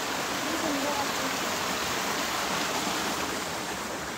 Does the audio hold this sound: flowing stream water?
yes